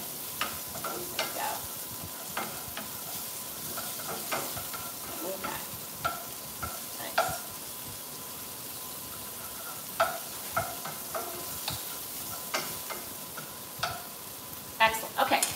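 Fat renders in olive oil in a pan while shrimp and grits are cooked, giving a quiet, constant sizzle punctuated by irregular scraping and tapping from stirring, heard close and without talk.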